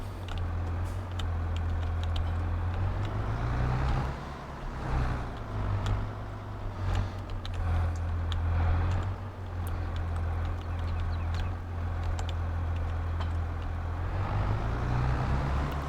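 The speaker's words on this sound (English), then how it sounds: "Definitely not as quiet as the electric tractor was, but got a nice throaty sound to it, this one." An older tractor engine in Farming Simulator 22 runs with a throaty, low rumble, a steady deep drone with slight rises and dips in revs, continuous and fairly close, with no voices.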